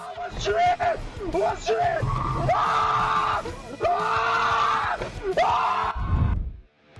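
Cab driver screaming wildly while swinging a car around during a carjacking attempt: loud, sustained wavering yells and whoops, several long cries in a row, ending in a low rumble.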